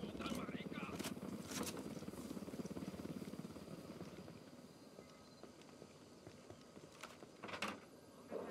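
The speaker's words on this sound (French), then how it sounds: "Hélico, baissez-vous." Helicopter from the video game Ghost Recon Wildlands thrums steadily in the background, a low rotor rumble running under continuous in-game radio chatter and dialogue, with a few brief sharper effects over it.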